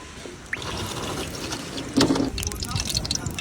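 Cooking oil bubbling in a pan before whole fish go in to fry, a busy crackle and sputter that turns louder and livelier partway through, with a voice talking over it.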